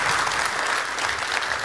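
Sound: audience applause

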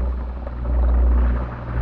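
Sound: helicopter in the Delta Force video game

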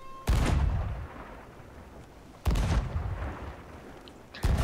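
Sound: cannon fire in the video game Sea of Thieves

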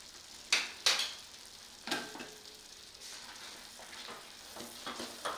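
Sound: stirring fried cashews and raisins into rava kesari

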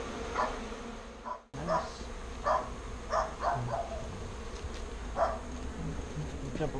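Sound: honey bees buzzing around a birdhouse

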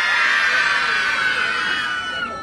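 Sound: children shouting together

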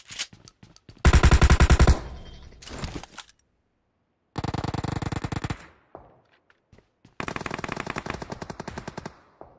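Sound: shotgun fire in the video game BGMI

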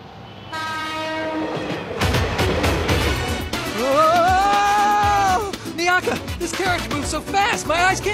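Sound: train passing

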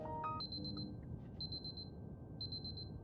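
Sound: alarm clock ringing in the video game Superliminal

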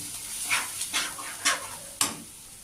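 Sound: spice paste with turmeric frying in pan for pomfret curry

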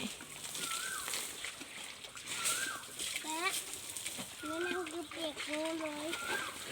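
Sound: water running while bathing an elephant

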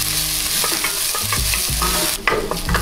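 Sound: onion frying in oil in a pot

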